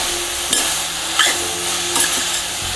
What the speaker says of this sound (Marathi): हे गाजर परतलं गेलेलं आहे तुपावर